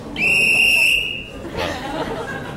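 A sharp, shrill whistle blast sounds for about a second, followed by a murmur of crowd chatter and voices in the background.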